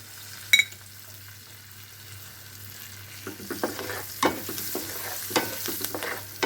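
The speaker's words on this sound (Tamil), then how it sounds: "இது எண்ணெய் நல்லா காஞ்ச எண்ணெய் தான் நல்லா உடனேயே பொறிஞ்சிடும் அதுலேயே நம்ம எடுத்து வச்சுருக்கிற கருவேப்பிலையை போட்டுடலாம்" Curry leaves hit well-heated oil for a tamarind-ginger thokku, bursting into loud, crackling spluttering after a quiet start, with a spiky, continuous sputter filling the second half.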